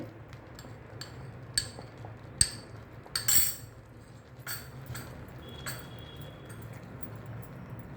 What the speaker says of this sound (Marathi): बारीक गॅसवर पुन्हा आपल्याला हे सतत ढवळत राहायचं आहे हे केशराचं दूध घालू आपण याच्यामध्ये